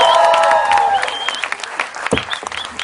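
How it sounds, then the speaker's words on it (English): An audience at a film Q&A with director Anurag Kashyap claps and cheers loudly in a dense, sustained burst that gradually thins into scattered claps. "please, let's have a big round of applause for our friend and director, producer of this film, Anurag Kashyap"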